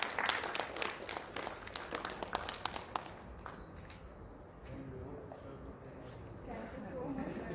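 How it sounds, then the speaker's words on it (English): Brief scattered clapping at a school Republic Day celebration, loose uneven claps for the first few seconds that fade into quieter room noise with faint voices. "let's appreciate with a huge round of applause for her selfless"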